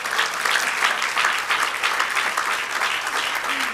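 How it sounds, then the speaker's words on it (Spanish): Congregation applauding at a church service led by a pastor, a steady dense wash of clapping that holds at an even level for the full stretch with no talk over it. "dale el aplauso"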